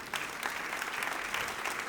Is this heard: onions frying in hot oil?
no